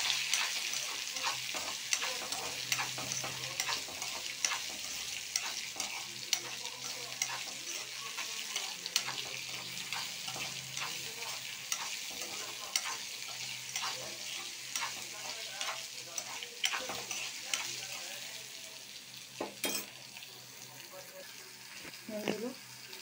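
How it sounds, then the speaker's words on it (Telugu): Raw mango pieces fry and get stirred in a pan for a tangy chutney, with a steady low sizzle punctuated by frequent scraping and clinking of the spoon against the pan, fairly faint and close throughout. "ఇప్పుడు మామిడికాయ ముక్కలు కొద్దిగా ఎక్కువ పులుపుకే సరిపోయినంత దీన్ని బాగా వేయించుకోవాలి."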